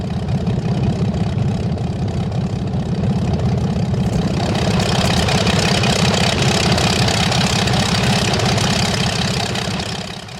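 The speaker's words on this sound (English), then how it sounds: "which is great because that is a noisy engine." Engine of a Zlin Z-142 light aircraft running in the X-Plane 11 flight simulator, a loud, steady droning rumble that grows somewhat louder and brighter halfway through before easing off at the end.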